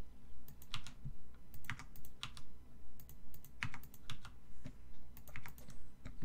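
Close, quiet computer mouse clicks while dropping inventory items in Might and Magic VI, landing in short uneven bursts of sharp taps at a rapid pace, with no one talking.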